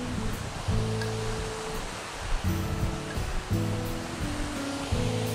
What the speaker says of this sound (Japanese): すごい、もうここに滝がありますね。